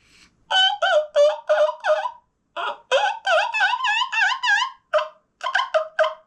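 A series of high, raspy yelping calls in quick bursts, imitating a turkey hen, blown close on a handheld wingbone turkey call with short pauses between groups.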